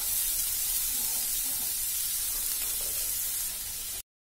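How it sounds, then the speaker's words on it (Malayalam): Three medium onions, finely chopped, sizzle loudly and steadily in hot oil for a beef roll filling. The dense, even hiss runs unbroken for about four seconds, then cuts off abruptly. "നമ്മുടെ ഓയിൽ ഇതേ നന്നായിട്ടൊന്ന് ചൂടായി വന്നിട്ടുണ്ട്. നമുക്കിനി ഇതിലേക്ക് സവാള ഇട്ട് കൊടുക്കാം."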